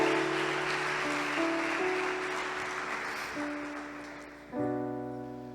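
A church congregation applauds the Lord: a steady wash of many hands clapping, moderately loud, under sustained keyboard chords that swell near the end.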